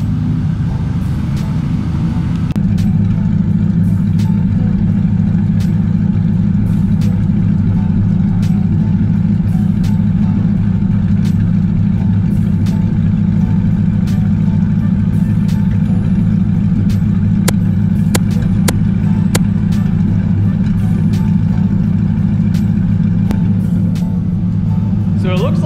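An LS-swapped Mazda Miata's engine drones steadily at low pitch throughout a test drive, loud and constant, with a few sharp ticks and knocks over the top.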